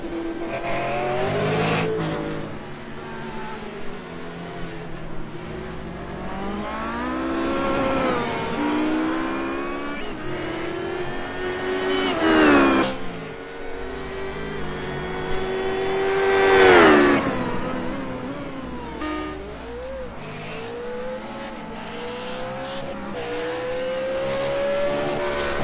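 Gen 6 stock cars and HPD prototypes race past, their engines rising and falling in pitch as they rev through gears, with loud swelling passes and a faint tire squeal in the turns.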